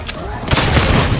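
Autogun fire in the video game Warhammer 40,000: Darktide, a dense loud burst of rapid gunshots after a brief single shot, with a voice heard over the firing.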